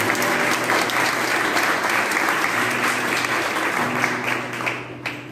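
A church congregation applauds during a baptism service, a dense, steady clapping that fills the room evenly for the whole stretch, close and loud with no voices over it.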